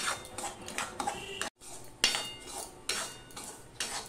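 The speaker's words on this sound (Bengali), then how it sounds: "সুজিটা কিন্তু আমি বেশি ভাজবো না, অল্প একটুখানি করে ভেজে নেব।" Semolina lightly frying in a pan for a powdered-milk sweet, with repeated scraping and clinking of a spoon or spatula against metal, the stirring strokes coming irregularly and close by, with one brief pause.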